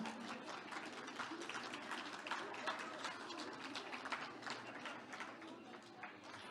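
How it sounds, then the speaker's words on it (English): An audience at a conference gathering applauds the food menu, a steady stretch of dense clapping from many hands, heard at a moderate distance and fairly faint throughout. "Can I hear a round of applause for the menu today?"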